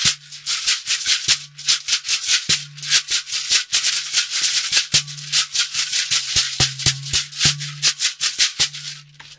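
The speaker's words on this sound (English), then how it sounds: "And the balls here are from plastic," A shekere strung with plastic balls is shaken in a fast, steady rhythm of crisp, bright rattling strokes, loud and close, with occasional accented hits and no talking.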